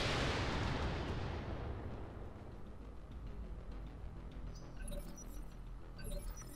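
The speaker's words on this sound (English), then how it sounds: "So Hickory's going to try for a headshot now. Okay, so he's got an indirect fire." Indirect artillery fire in the BattleTech-based video game Roguetech opens with a heavy, loud blast that rumbles and slowly fades over several seconds into a lingering low roar.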